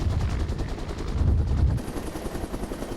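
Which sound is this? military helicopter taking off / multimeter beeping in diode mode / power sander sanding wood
military helicopter taking off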